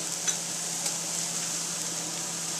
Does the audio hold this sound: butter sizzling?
yes